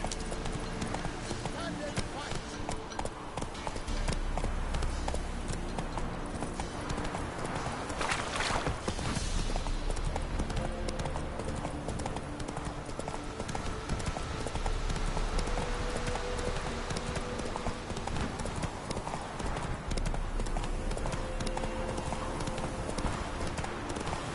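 Hoofbeats of a galloping horse in The Witcher 3 pound steadily throughout, loud and continuous, over game music and ambient noise, with a brief whinny-like burst partway through.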